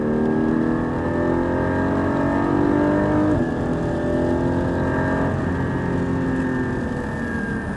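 A Porsche 718 Cayman GT4 accelerates hard in third gear on a wet circuit, its engine note climbing steadily and loud for several seconds. After a brief shift it keeps pulling, with no speech.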